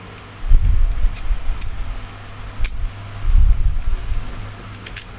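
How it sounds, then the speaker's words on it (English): Keys turning in a freshly rekeyed lock cylinder set up to work with both customer keys and a master key, close metallic clicks and rattles in two short bursts with a quiet pause between. "I've got to demonstrate these keys work now as well."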